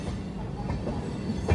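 The AP Sampark Kranti Express rumbles steadily on its approach to Jhansi station, heard from on board as a continuous low roll of wheels and carriage noise.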